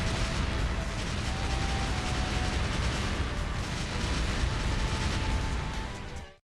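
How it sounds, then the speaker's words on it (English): A boss blowing up in Mega Man X7, a sustained loud roar of crackling explosion noise with mechanical clatter that holds steady for several seconds, then cuts off abruptly. "I like how he switches the head and then just explodes"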